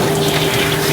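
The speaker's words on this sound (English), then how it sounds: "That's some pretty decent water pressure right there." Van shower in a Winnebago Revel turned all the way up, water rushing at full pressure with a steady, loud, continuous hiss and a faint pump hum underneath, close by with no talking.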